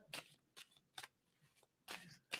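Tarot cards shuffled by hand, five quick crisp riffling bursts in an uneven rhythm, close and quiet, with near silence between them.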